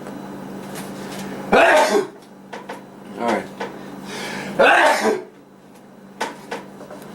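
Two sharp, loud sneezes about three seconds apart in a home kitchen during cooking, with brief clatter and a short spoken word between them.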